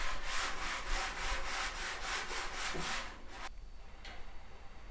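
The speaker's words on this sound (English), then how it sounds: "Sand down." Sanding drywall compound on a gypsum board ceiling light box produces a rhythmic rasping scrub of quick back-and-forth strokes, close and moderately loud, before easing off near the end.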